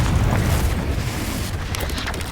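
A Confringo fire spell blasts in a wizarding video game, a loud booming explosion with deep rumble that rolls on and slowly decays, with fainter crackling bursts near the end.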